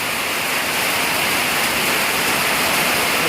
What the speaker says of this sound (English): with much rain and wind.